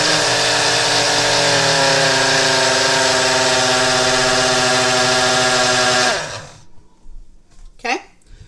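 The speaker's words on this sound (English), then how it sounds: "So pardon the noise, here we go." A blender whirs loudly and steadily for about six seconds, then winds down and stops, followed by a couple of faint clatters.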